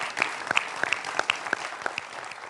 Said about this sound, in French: On peut l'applaudir très très très fort.